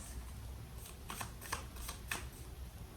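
Soft, quick riffling bursts of playing cards being shuffled, faint and close, repeating several times against a low background hum.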